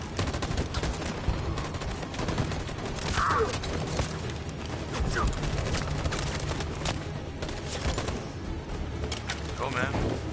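Gunfire volley in the game Detroit: Become Human, a dense spread of repeated shots crackling across a busy, noisy battle bed, with voices calling out briefly over the din.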